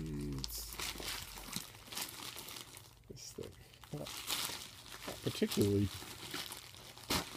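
A stubborn book package being unwrapped, with crinkly wrapping tearing and rustling in bursts close by while a person talks quietly.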